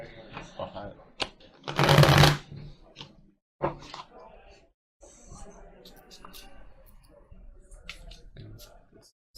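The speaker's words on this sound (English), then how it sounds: "I'm going to shuffle" Quick riffling bursts and soft slaps of a deck of cards being shuffled at a Terraforming Mars board game table, with a loud central riffle, scattered clicks and low voices around it.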